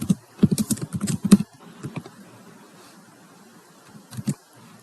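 Computer keyboard typing code in the PyCharm IDE, a close quick cluster of key clicks at the start, then sparse scattered taps and a short final burst, with no talk.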